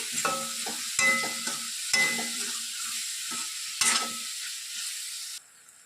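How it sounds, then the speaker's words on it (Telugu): Tomatoes and green chillies fry in a pan for an Andhra-style spicy chicken roast, giving a steady close sizzle broken by several sharp spoon scrapes and clinks against the pan, then the sizzle drops away near the end. "ఇప్పుడు టమోటా కాస్త మెత్తబడేంత వరకు ఫ్రై చేయండి"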